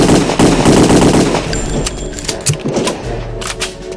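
A Tommy gun fires in the Return to Castle Wolfenstein video game, loud rapid automatic bursts that rattle on for a few seconds before breaking into scattered shots and game noise.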